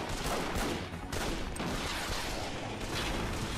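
Dense gunfire in the zombie action game Dead Island Riptide: Definitive Edition, a continuous loud barrage of shots and blasts with a rocket launcher in play, filling the scene with no pause.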